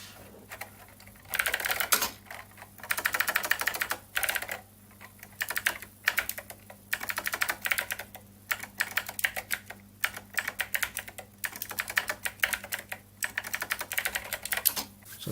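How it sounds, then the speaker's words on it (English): Fast typing on a MechBoard64 mechanical keyboard fitted to a Commodore 64, a close, dense clatter of key clicks in bursts with brief pauses, alone over a steady low hum. "So if I'm typing something fast"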